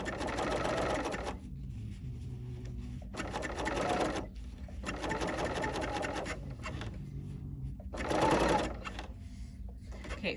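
A coverstitch machine stitches a cowl neck tee in several fast, buzzing runs of varying length, close and loud, separated by short gaps with faint handling noise.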